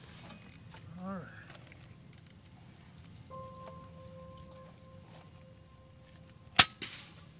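An airgun fires a single sharp, close crack at a field target competition outdoors, followed by a short rustle; before it there are quiet ambient sounds, a brief voice, and a steady tone.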